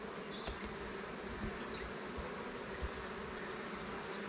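Honey bees droning continuously inside a beehive set up by a first-year beekeeper, a dense steady buzz close by with no voices.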